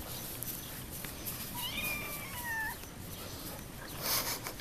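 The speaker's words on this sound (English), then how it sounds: "Comes the kitty." A cat gives one drawn-out, rising-and-falling meow in the middle, at moderate distance and fairly quiet, over steady room noise with no talking.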